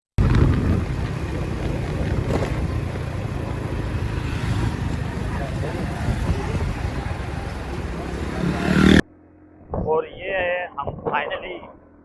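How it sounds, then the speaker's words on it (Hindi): Two motorbikes carrying six riders travel toward Mohenjo-daro in Pakistan; a steady engine drone is buried in heavy wind buffeting for about nine seconds, then cuts off abruptly and voices talk. "तो इसलिए हमने दो बाइकें अरेंज की हैं और 6 बंदे हैं, निकले हैं मोहनजोदड़ो के लिए।"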